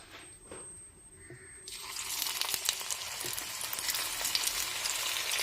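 Bitter gourd slices fry in a pan of oil, the sizzle starting up suddenly and then holding as a dense, close crackle with no talking.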